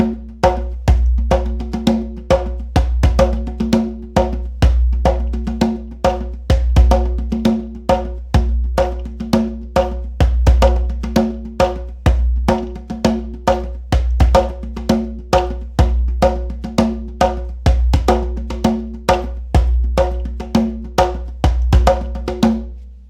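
A drum works through a 13/8 rhythm variation, its close, punchy strokes recurring in an uneven looping cycle with booming low tones and sharp upper hits, steady and unaccompanied by any voice.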